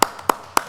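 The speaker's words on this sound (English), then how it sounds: "I'm going to give you an applause, even though it's just a handful" A handful of people in a town planning board meeting room clap for Logan, three sharp, separate claps spaced about a quarter second apart, close and fairly loud over a quiet room.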